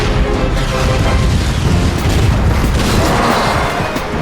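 A heavy, booming cartoon cannon blast rumbles on continuously, loud and low, like sustained cannon fire with no voices over it.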